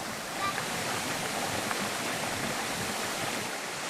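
A steady, dense rush of falling water from a waterfall in the Bolivian mountains, filling the space continuously with broadband roar and no clear voices.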